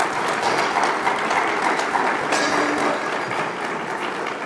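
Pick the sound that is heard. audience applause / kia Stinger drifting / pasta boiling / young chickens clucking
audience applause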